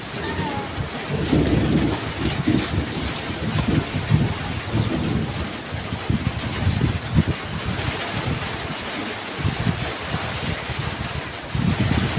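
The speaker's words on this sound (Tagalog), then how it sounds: "Mabagsak yung ulan sa mukha ko." Heavy rain pours steadily outdoors with a dense hiss, joined by low rumbling thunder and gusts of wind throughout.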